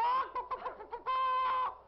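A person's voice imitates a chicken, giving a loud, close run of choppy clucking bursts between two longer squawking calls.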